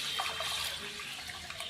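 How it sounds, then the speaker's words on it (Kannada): Water is poured into a cooking pot for a moong dal and rice khichdi, a steady rushing splash heard close and continuous for a couple of seconds. "ನೀರು ಹಾಕ್ಕೊತೀನಿ."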